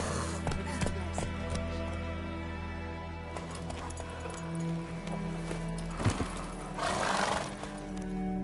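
Roach, a horse in The Witcher 3, gallops with rapid hoofbeats and snorts over a steady game soundscape, fairly close and continuous.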